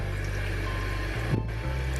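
Room-temperature tap water runs from a faucet onto a potted peace lily, a steady, close rushing flow lasting the whole two seconds with a brief splashy shift near the end.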